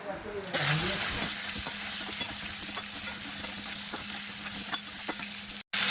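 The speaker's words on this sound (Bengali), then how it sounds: "লবণ দিয়ে দেব আর একটু হলুদ গুঁড়ো দিয়ে দেবো, দিয়ে পটলটা ভাজা করে নেব" Pointed gourd (potol) slices fry in hot oil with salt and turmeric, giving a loud, steady sizzle broken by scraping stirs. The sizzle cuts out briefly near the end, then resumes.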